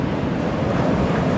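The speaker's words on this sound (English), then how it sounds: "and it's got waves" Ocean surf rolls onto the long straight sands of 90 Mile Beach in Gippsland, a dense continuous roar of waves mixed with buffeting wind noise, with no voices.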